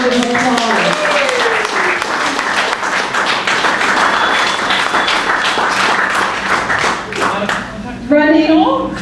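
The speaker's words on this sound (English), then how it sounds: "give yourselves a huge round of applause" A crowd at a campaign speech for an election candidate breaks into a long, loud round of applause and clapping that runs steadily for several seconds, with a speaking voice heard briefly at the start and again at the end.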